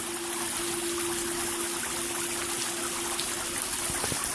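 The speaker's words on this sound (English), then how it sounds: "But definitely spectacular fountain." Large outdoor water fountain driven by an Intex 2500 GPH pump, giving a steady, loud, close splashing rush of falling water with a faint pump hum and no voices.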